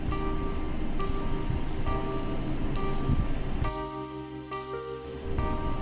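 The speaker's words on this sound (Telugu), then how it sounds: "ఇక్కడ వాటర్ సౌండ్ ఎంత గట్టిగా వస్తుందంటే ఒకసారి మీరే వినండి ఎంత గట్టిగా వస్తుందో." Loud flowing water at a busy picnic spot rushes in a steady, dense wash that barely changes for the whole stretch, with faint tonal sounds ringing through it.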